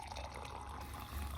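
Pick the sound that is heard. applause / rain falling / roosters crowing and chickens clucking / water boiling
water boiling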